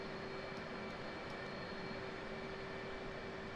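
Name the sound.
F/A-18C jet engines running after cold start, flight sim game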